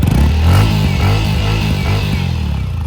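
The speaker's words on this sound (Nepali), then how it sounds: "यो चाहिँ एक्जस्टको साउन्ड सुन्नु है" A Yamaha WR 155 dirt bike's exhaust rumbles loud and close, a steady low throbbing idle with slight revving pulses throughout, no voices over it.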